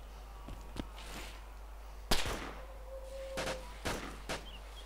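Gunfire in the ARMA 2 DayZ video game: half a dozen sharp, fairly faint shots crack out at irregular intervals, one louder report in the middle, against a low steady hum.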